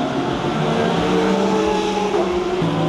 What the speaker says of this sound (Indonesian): Dari suaranya ya udah ketahuan ini mobil-mobil GT3.